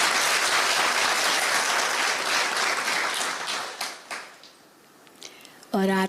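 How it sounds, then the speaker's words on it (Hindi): An audience at a spiritual gathering in a hall breaks into loud, dense applause that holds for nearly four seconds, then fades into scattered claps and near silence before a voice begins speaking. "जोर से ताली बजा सकते अपनी"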